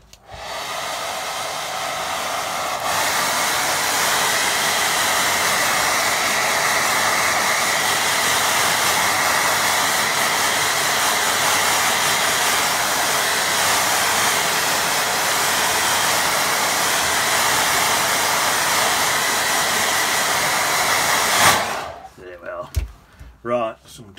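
A hair dryer dries a watercolour painting, starting with a click and a loud, steady blowing roar that runs for about twenty seconds before it switches off, then a few small handling knocks follow.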